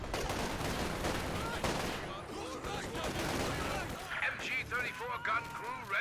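MG-34 machine gun fire in Company of Heroes 2, a WWII strategy game battle, crackles in dense bursts among mixed explosions and battle noise that fill the scene throughout.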